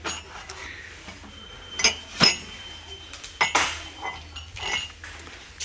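Ceramic mugs handled on a kitchenware display, giving several sharp clinks and knocks in an irregular rhythm, close and moderately loud over a quiet room background.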